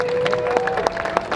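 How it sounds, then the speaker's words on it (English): A crowd at a drift championship round at Donington gives the drivers a brief round of applause, a scattered patter of hand claps over a steady background hum. "let's give a round of applause to our drivers"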